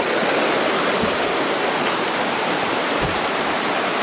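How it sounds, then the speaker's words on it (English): A creek rushes steadily nearby, a dense broadband wash of flowing water that fills the whole stretch evenly with no voices. "There's a creek right there"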